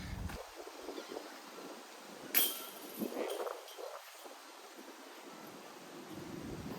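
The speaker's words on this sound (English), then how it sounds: "It is very windy today, much windier than projected for the tournament." Steady wind noise buffets the microphone outdoors on a disc golf course, with gusts swelling and fading and a brief louder rush midway.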